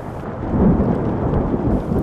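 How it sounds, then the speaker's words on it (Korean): Deep thunder rumbles loudly through a thunderstorm, a rolling low roar that swells and lingers over about two seconds, with rain hissing faintly underneath. "창밖이 번쩍하더니 곧 천둥 소리가 들렸다."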